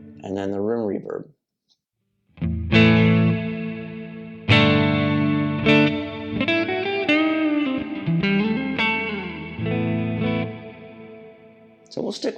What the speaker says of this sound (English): and then the room reverb.